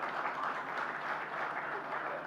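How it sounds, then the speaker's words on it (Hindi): Applause from a crowd at a political gathering, a steady dense wash of clapping that holds evenly throughout at moderate distance, with no voices over it. "ये जो तालियां बजी हैं"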